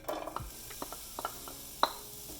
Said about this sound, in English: Now go ahead and add your onions and garlic